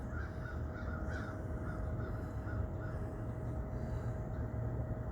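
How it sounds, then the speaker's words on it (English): Thousands of crows stream overhead in a dense flock, their caws blending into a constant layered chorus over a steady low background rumble and a faint sustained tone. "There was crows for miles."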